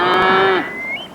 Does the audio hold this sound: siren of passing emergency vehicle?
no